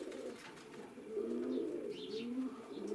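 Soft, low cooing of pigeons pecking wheat grain, a continuous murmuring coo rising and falling close by, with faint chirps and light rustling in the background.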